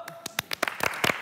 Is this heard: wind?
no